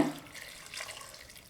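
Water poured into a pressure cooker holding carrots makes a soft, faint splashing trickle that starts with a brief burst and then fades to a low, steady stream.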